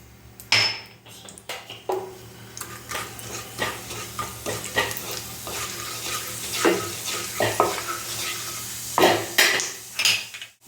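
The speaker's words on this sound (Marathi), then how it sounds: "तेल गरम झालं आता यात मी थोडंसं जिरं टाकलं आणि ही बडीशोप टाकली" Cumin and fennel seeds crackling in hot oil in a wok, a soft continuous sizzle broken by frequent clinks and scrapes of a spoon against the metal pan, close and fairly quiet.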